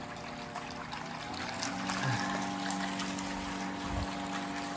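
Pump pushing water into a plasma cutting table's drain tank, a steady running-water rush and pour with a constant mechanical hum underneath, fairly close and even throughout, no voices.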